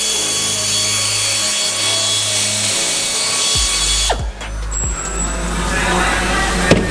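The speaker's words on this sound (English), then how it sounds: "he's pre-drilling everything for the bumper" Power drill pre-drilling holes in a carbon Nissan GT-R widebody bumper in a workshop, a loud continuous whine that shifts pitch as the motor slows and speeds up, with brief pauses and mechanical clatter near the end.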